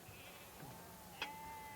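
Sheep bleat once, faint and brief, out in the open on a high-altitude Himalayan farm in Kashmir, over a quiet background hiss.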